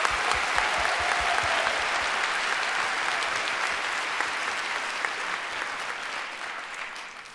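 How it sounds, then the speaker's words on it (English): Audience applause fills the room at a university fashion show, a dense steady clapping that stays loud throughout and fades slightly toward the end. "Would everyone please join in giving them a round of applause?"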